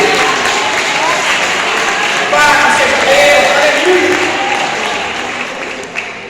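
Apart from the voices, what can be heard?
church congregation applauding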